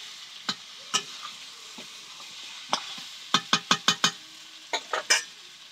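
Chicken curry frying in a pan while being stirred: a bed of low sizzle broken by sharp spatula knocks and scrapes against the pan, a quick run of five clatters in the middle, close and clear, with no talk.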